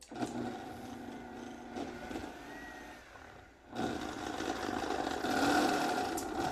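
A blender motor whirs through broccoli cheese soup, running steadily, dropping away briefly, then starting up again louder and rising in speed toward the end.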